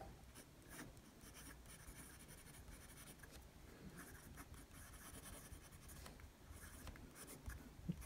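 A Diplomat Excellence A fountain pen with a medium nib, inked with Mont Blanc Irish Green, scratches steadily across paper, producing a continuous close rubbing texture with small strokes and pauses throughout.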